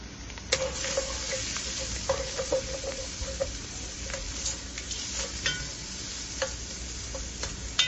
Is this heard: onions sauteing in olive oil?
yes